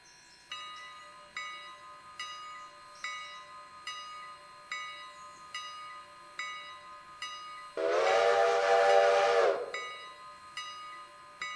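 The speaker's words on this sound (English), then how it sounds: "When starting a train, it's common to sound the bell and whistle." A steam locomotive in a train simulator game rings its bell in a steady repeating rhythm, then sounds one loud, sustained whistle blast of about two seconds near the end before the bell continues.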